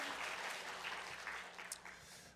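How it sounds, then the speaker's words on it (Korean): A church congregation gives steady, welcoming applause for visiting guests, a dense wash of many hands clapping that carries on evenly for the whole moment. "환영의 박수 쳐주셨으면 좋겠습니다."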